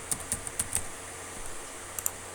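Keys on a computer keyboard clack in a quick burst during a Python programming lecture, several light taps close by, a pause, then two more taps in a quiet room.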